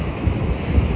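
Ocean surf rolling onto a beach at Mahahual, a continuous broad wash of waves with some wind buffeting the microphone, no voices.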